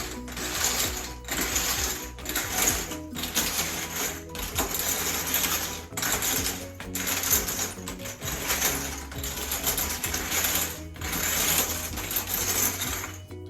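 Brass cartridge cases stirred in boiling water with dishwasher rinse aid clink and rattle in repeated bursts, a rhythmic jangling stir with short pauses between each round.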